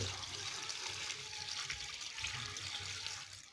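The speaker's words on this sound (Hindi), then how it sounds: "अभी पानी डालेंगे इसमें उबालने के लिए।" Water poured into a cooking pot in a village kitchen to boil radish for mooli bhujiya: a continuous, moderately faint splashing rush that holds steady for several seconds and tapers at the end.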